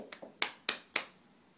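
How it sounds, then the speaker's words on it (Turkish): A small child claps its hands at home with a grandfather nearby: five light, close claps in an uneven rhythm, the last three louder and more evenly spaced. "Alkış yapacağız ya."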